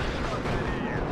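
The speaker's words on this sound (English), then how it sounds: "Another Su-22 from Noob Nath coming in for a 2nd bombing strike" A Su-22 bombing strike explodes in the WARNO war game, a loud, dense rumbling blast that fills the whole short moment, with a voice talking over it.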